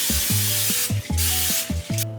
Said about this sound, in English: I'm gonna spray the pan real quick